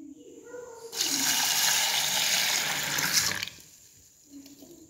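Kavuni black rice being rinsed under a running kitchen tap: a steady, fairly loud gush of water lasting about two and a half seconds, then stopping, with no talking.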